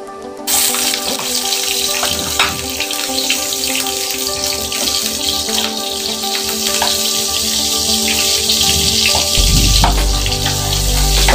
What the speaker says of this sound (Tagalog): Ayan, mainit na ang ating mantika. Ilalagay ko na po yung ating butter.